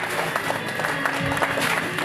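Steady applause fills a wedding anniversary celebration for a couple married fifty years, a dense continuous patter of many hands clapping with a faint voice mixed in beneath it.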